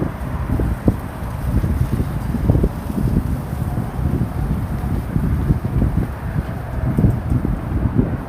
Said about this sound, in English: Alright, now it's getting windier.